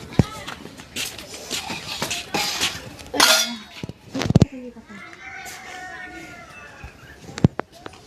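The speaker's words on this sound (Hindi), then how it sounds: "अब चलते हैं, बर्तन धुल देते हैं" Dishes and utensils are washed in a village kitchen in India: scattered clinks and clatters of metal pots and cutlery under ongoing talk, with children's voices in the background.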